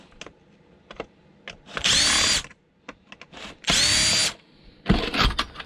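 Power drill unscrewing parts while scrapping in a shed, two loud whirring bursts of about a second each between small clicks and handling knocks, with a shorter buzz near the end.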